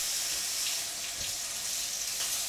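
Tap water runs and splashes over a beer brewing part being rinsed in a sink, a steady close hiss with slight gurgles and no talk.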